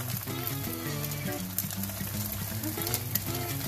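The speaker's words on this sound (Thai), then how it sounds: "พอกระเทียมเหลืองแล้วเราก็ใส่ไข่ลงไป" Egg frying with golden garlic in a pan, a steady close sizzle with a low hum running throughout, no talk over it.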